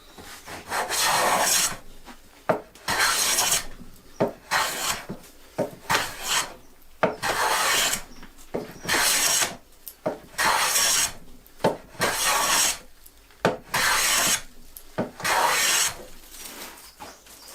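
Hand plane taking long shavings off a sapele board, a steady series of about ten rasping strokes with short pauses between them, close and loud with no talk.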